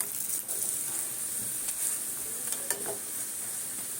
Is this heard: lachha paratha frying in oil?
yes